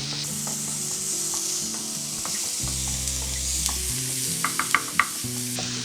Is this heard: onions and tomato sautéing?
yes